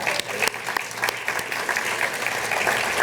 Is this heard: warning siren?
no